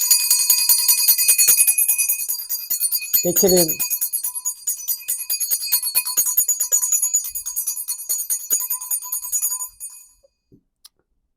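A bright bell rings continuously with shimmering, overlapping tones for about ten seconds, then stops; a voice briefly speaks partway through.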